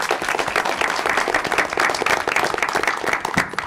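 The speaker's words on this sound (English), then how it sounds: "let's give a round of applause" Steady applause from an audience at a school district board committee meeting, many hands clapping densely and evenly from start to finish with no voices on top.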